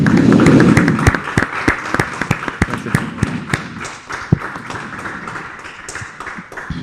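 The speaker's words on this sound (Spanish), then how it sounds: "Vamos a darle un aplauso a Daniel" Applause for Daniel after a talk at a physics conference, opening with a loud burst of crowd noise that thins into scattered, individual claps and taps fading toward the end.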